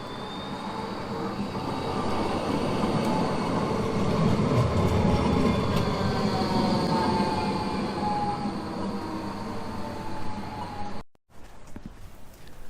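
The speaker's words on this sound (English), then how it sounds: "The trams appear to run fairly regularly" A tram running through Adelaide, South Australia, a loud, sustained rumble of wheels on rails with faint squeals, passing close by for several seconds before the sound briefly cuts out.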